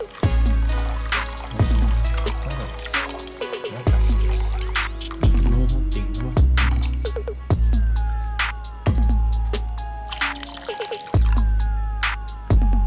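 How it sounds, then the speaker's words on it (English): Water sizzling and bubbling as it hits stir-fried vegetables in a pot for hot and sour soup, loud and close, with repeated rhythmic bursts of crackling and hiss. "once it's all stir fried, you want to go ahead and add your 4 cups of water."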